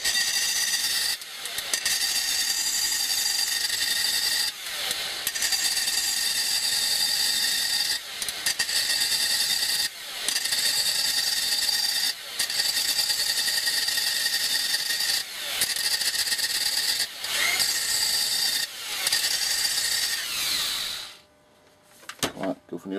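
A very old electric drill runs almost continuously for about twenty seconds while a quick knife is being made. It gives a loud, steady whining buzz broken by brief dips, then stops near the end.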